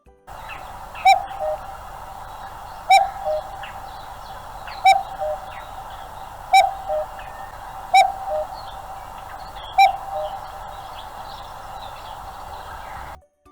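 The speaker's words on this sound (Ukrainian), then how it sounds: "прислухайтесь до зозулі, і ви дізнаєтесь, хто живе в цьому будиночку" A cuckoo calls six times, each a clear two-note coo spaced about two seconds apart, with no speech around it.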